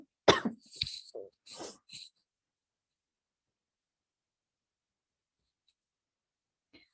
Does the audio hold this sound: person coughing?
yes